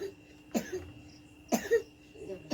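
A person coughs twice, about a second apart, with short rough bursts close to the microphone in an otherwise quiet space.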